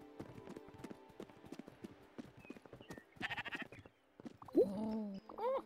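A second sheep in the farming game Spiritfarer bleats in short wavering cries near the end, after a run of soft clip-clop footsteps and a brief chime.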